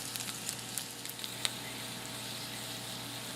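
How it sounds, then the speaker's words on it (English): Potatoes fry in a pan, giving a steady, moderately quiet sizzle with a few faint crackles and pops and no talking. "I'm going to flip the potatoes"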